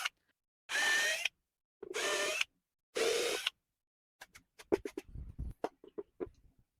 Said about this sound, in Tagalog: At minarkahan ko muna bago butasan yung para sa tornilyo nitong inverter.